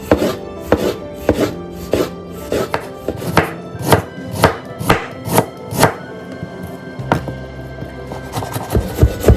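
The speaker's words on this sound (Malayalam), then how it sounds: "നമുക്ക് സബോള സ്ലൈസ് ചെയ്യാം." An onion being sliced with a knife on a wooden chopping board, a series of close, sharp knocks in an uneven but steady rhythm, roughly a dozen strikes, with no speech.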